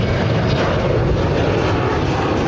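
A fixed-wing airplane roars past at Honolulu airport at sunset, its engine noise loud, close and steady throughout with no breaks.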